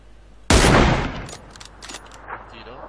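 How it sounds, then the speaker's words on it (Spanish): A single loud, close gunshot in the video game Sniper Elite, a sharp crack followed by a long decaying echo that rolls on for about two seconds with faint rumbles in the tail. "Un tiro."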